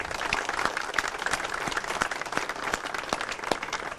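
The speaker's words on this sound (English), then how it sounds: "Let's give them all a round of applause." Audience at a U.S. Independence Day reception in Izmir breaks into lively applause, sharp individual claps standing out from a steady, moderately close ovation that runs the whole time.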